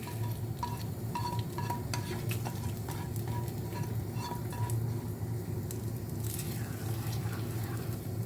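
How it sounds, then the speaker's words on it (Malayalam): Beetroot pachadi, a Kerala sadya dish, being stirred in a pan, giving a steady scraping and clicking of a spoon against the pan over a low continuous background hum, with no talking. "നന്നായിട്ട് ഇളക്കിയെടുക്കാം"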